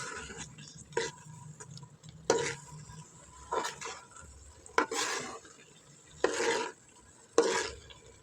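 Carrot halwa with milk is roasted in a pan and stirred, with sharp scraping and clinking strokes of a spoon against the pan at irregular intervals over a faint low sizzle.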